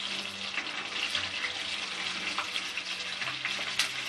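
Quail pieces frying slowly in a pan on low flame, a continuous soft crackling sizzle with occasional pops and faint tonal hum, close and steady without any talking.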